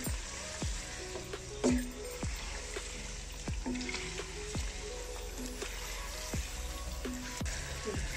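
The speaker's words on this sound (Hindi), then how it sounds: "अब मैं इसको एंड पे ना कश्मीरी मिर्च डाल के ऊपर इसका तड़का लगाऊंगी" Kashmiri chilies crackle and sizzle in hot ghee as a tempering is poured over chicken nihari, with a steady frying hiss broken by sharp intermittent pops and spatters.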